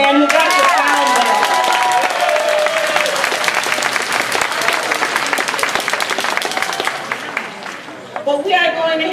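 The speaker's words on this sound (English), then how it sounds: "Let's give a round of applause to Ruben Augusta, our sound man" Audience at a Toastmasters district fall conference business meeting breaks into sustained, dense applause, loud and close, with scattered cheers, tapering off near the end as a voice returns.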